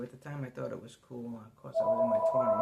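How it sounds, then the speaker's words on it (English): A telephone starts ringing partway through, a steady electronic tone entering under a woman's ongoing speech and continuing to the end. "Hold on, that's the phone."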